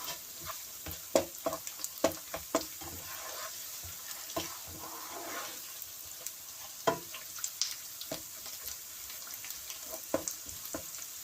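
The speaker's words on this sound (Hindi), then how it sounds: "और 1-2 मिनट के लिए फ्राई करेंगे।" Salmon pieces frying in a pan for a fish curry, giving a steady soft sizzle with scattered sharp clicks and scrapes of stirring, heard alone without talk.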